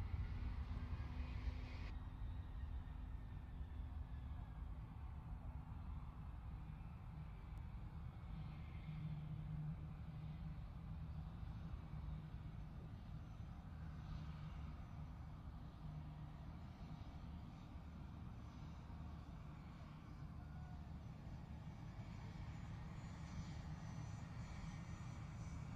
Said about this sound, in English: Power coming up on the Antonov, on the Ant, the 178.